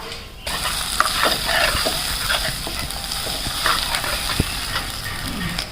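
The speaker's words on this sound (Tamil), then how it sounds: "சீரகம் போடுறேன்ப்பா பச்சை மிளகாயும் பூண்டும் போட்டுருவோம்ப்பா" Cumin seeds, green chili and garlic fry in a hot pan, a loud crackling sizzle that starts abruptly and keeps popping and spitting close by for several seconds, with no one talking.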